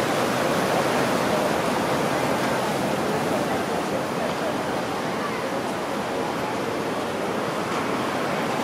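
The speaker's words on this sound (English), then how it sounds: "there's some good waves here" Ocean waves at high tide break on the shore at Mazatlan, a steady loud roar of surf with no pauses.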